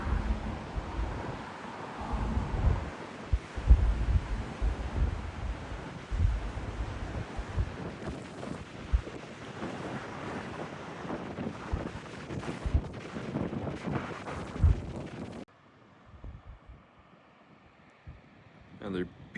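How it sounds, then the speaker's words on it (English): Strong wind gusting along Turnagain Arm, Alaska, roars and buffets the microphone in loud, uneven surges for about fifteen seconds, then drops abruptly to a much quieter, fainter rush of air. "It's not uncommon to have 100-mile-an-hour winds on Turnagain Arm."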